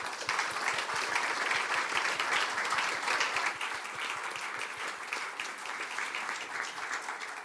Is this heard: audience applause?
yes